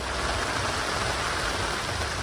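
Heavy rain pours down at the Le Mans 24 Hours race in a dense, constant roar, steady and loud with no pauses.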